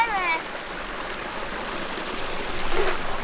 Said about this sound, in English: the water is flowing there